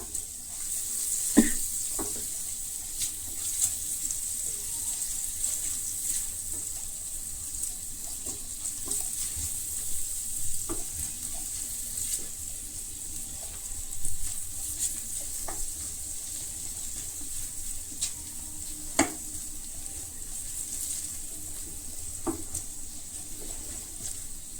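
Wine vinegar sizzles steadily in a pan of frying rice as it evaporates, a continuous close hiss broken by occasional clicks and stirring taps.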